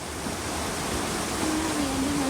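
Floodwater churns in a steady, loud roar during Typhoon Ondoy in Bacao, General Trias, Cavite, with a faint tone rising briefly over the continuous rush.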